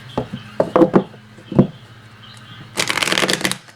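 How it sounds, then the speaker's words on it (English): Tarot cards being shuffled up close, with scattered taps and knocks of the deck against a surface, then a sustained rapid riffle of cards near the end. "So when I was shuffling for the theme cards for this group"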